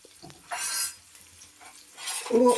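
Soft sizzling of crushed spices in a pan with intermittent stirring and light metallic clinks, quiet gaps between bursts, close up and without speech.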